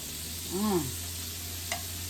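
Cabbage, sausage and shrimp fry in a pan with a steady, even sizzle, and a brief voice briefly rises above it.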